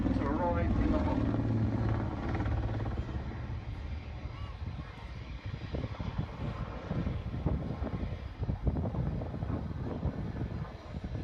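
Apache attack helicopter at an airshow, coming out of a corkscrew into a 360-degree quick stop and hover. Steady, loud rotor and engine roar that fluctuates slightly as the aircraft turns, with a commentator talking over it.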